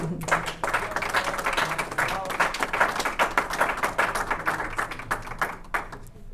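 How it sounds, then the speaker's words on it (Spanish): Applause from an audience at a chemistry and biology faculty seminar, a steady patter of many hands clapping close by, with some voices mixed in beneath. "Y un aplauso para la doctora"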